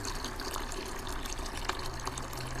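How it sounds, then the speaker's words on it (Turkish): Tap water running steadily into a pot while green olives are prepared for curing, a continuous close gushing and splashing that lasts throughout with no talk. "Normal musluk suyu üzerine koyacağız"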